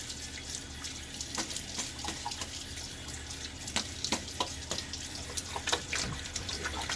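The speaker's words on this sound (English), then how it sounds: "During that little half rinse," Water runs from a tap as a Gillette Nacet blade in a safety razor is rinsed at a sink during a shave, a steady close splashing stream with a few brighter drips and clinks near the end.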